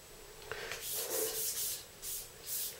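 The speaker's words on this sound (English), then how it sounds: "We've smoothed down the stanchion," Abrasive paper rubs back and forth over a motorcycle fork stanchion on a Cagiva Mito Evolution 125, soft raspy strokes in a quiet irregular rhythm, close and faint.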